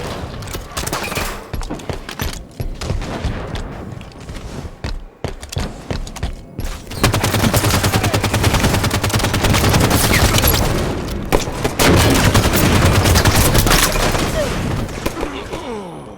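Gunfire and explosive bursts in Halo 5: Guardians Team Slayer on the Coliseum map, a dense, loud barrage that thickens into sustained heavy firing in the second half, with game announcer voice lines breaking in.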